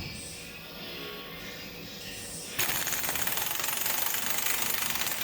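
A 3/4-inch impact wrench loosens a nut on a 2005 Chevy Silverado 1500HD, starting partway through as a loud, steady rapid hammering that runs to the end over quieter background noise.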